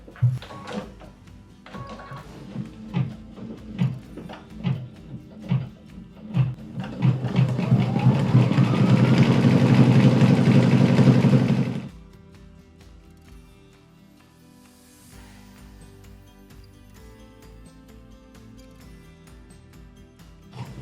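Embroidery machine stitching a house outline applique on fabric, a rapid mechanical stitching rhythm building to a steady, loud whir for several seconds, then stopping abruptly and leaving only a faint background hum.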